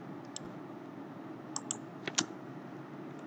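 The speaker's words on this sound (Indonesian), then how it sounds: "Kemudian di kotak pencarian plugin ini ketikkan" Typing on a computer keyboard during a search in a WordPress plugin directory, a few faint, scattered key clicks over a steady low background hum, no talk.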